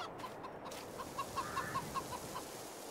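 Chickens cluck in a barn in Farming Simulator 22, with a rhythmic series of short clucks over a steady ambient hum at moderate distance.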